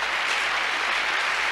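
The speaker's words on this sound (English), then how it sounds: "Give her a clap." Studio audience on a 1993 British TV game show bursts into dense, steady applause, loud and close, with no talk over it for a second and a half.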